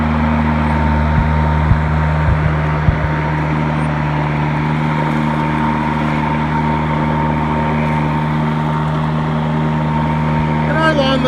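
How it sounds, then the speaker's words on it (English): A Toro 20363 battery-powered self-propelled lawn mower runs on a lawn, giving a steady, close electric motor hum with a constant whir that holds through the whole stretch. "So, self-powered mower."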